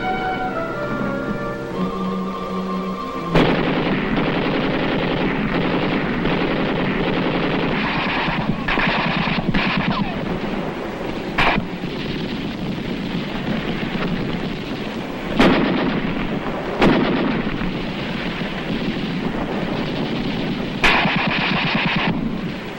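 Tank guns and rifle fire in Korean War combat, a dense continuous roar of gunfire punctuated by several sharp, loud reports from heavier shots, with no talking.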